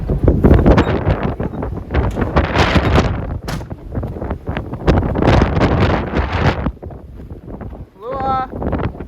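Strong wind buffets the microphone outdoors beside a Kenworth truck, loud rumbling gusts that rise and fall in heavy bursts with brief lulls, and a short high squeak near the end.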